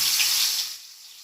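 Pieces of katla fish hit hot oil on a tawa, a sharp bright sizzle that flares loudly at once and then settles into a softer hiss within a second.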